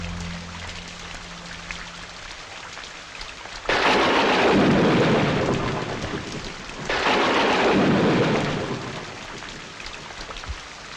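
Heavy rain with thunder, a quiet patter swelling into two long, loud rumbling thunder rolls that wash over the steady downpour.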